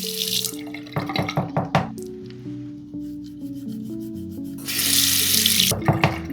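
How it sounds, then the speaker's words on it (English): Water runs from a sink tap onto a tongue brush, a steady splashing rush with brief rubbing and dripping touches. "Give your tongue brush a little bit of water."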